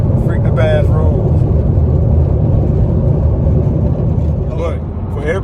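A BMW F10 M5 with its muffler deleted sends a loud, deep exhaust drone that rolls on steadily up close, with a person talking over the engine noise.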